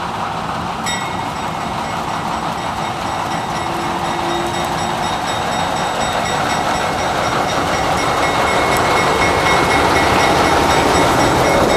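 The final run of the last GE 44-ton diesel locomotive on the Charlotte Southern rolls past a grain elevator, a loud, steady rumble of engine and rail wagons that builds slightly over the whole clip.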